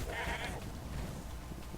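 A goat in the game Path of Exile gives a short bleat at close range, with game sounds murmuring underneath.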